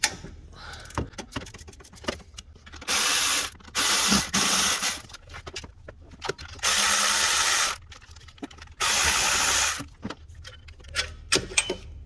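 Ratchet spinning bursts as 14 mm alternator bolts are backed out on a 2012 Toyota Camry 2.4L, four or so separate bursts of rapid clicking, close and loud, with tool clinks and handling noise between.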